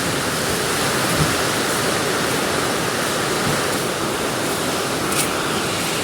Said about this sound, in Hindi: तो अब देखिए बारिश और स्पीड के साथ हो रही है और आवाज़ भी आप सुन सकते हैं